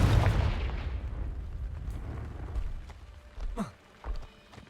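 Confringo fire spell from Hogwarts Legacy bursting at the start, a loud booming blast that decays into a fading rumble, followed by a few smaller crackles and thumps.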